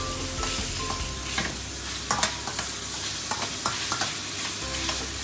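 Aromatics fry in hot oil for fried egg noodles with a continuous sizzle, broken by sharp scraping and tapping of a spatula against the pan at irregular intervals, close and fairly loud, with no talking.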